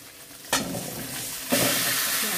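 Shukto curry with ginger paste in a pan sizzles steadily as it is stirred, with two sudden surges of frying hiss, one early and one midway, close and fairly loud.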